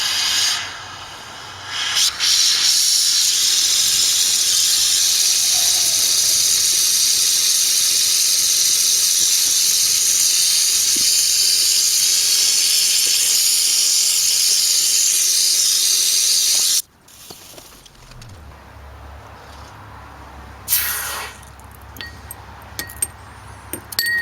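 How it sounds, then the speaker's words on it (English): A gas torch flame roars with a steady loud hiss while heating gold during refining of ceramic CPUs, continuing unbroken for most of the stretch before cutting off, leaving quieter low background rumble with faint clinks. "I'm going to try not to talk while the torch is on because it's hard to hear me"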